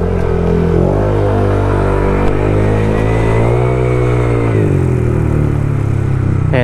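Motorcycle fitted with a refibered JVT V3 muffler, held at a loud, close, steady rev with a deep throbbing exhaust note that swells and dips, then drops back toward idle, with no voices.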